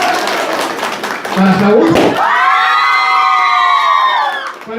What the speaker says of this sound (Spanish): Aplausos para esta niña.